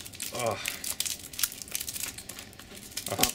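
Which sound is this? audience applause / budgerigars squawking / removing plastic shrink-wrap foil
removing plastic shrink-wrap foil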